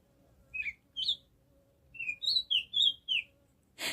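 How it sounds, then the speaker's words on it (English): A small bird in a backyard container garden gives a run of short, bright chirps, a few spaced apart and then a quicker cluster, fairly close and clear against a quiet outdoor background with no voices. "what you're hearing is a lovely little bird"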